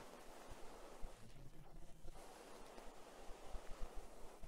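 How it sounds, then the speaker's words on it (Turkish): Strong wind roars and buffets steadily outdoors during a metal detector test, with gusty rushing noise and low thumps, loud and continuous with no talking. "Rüzgar çok yüksek şiddette."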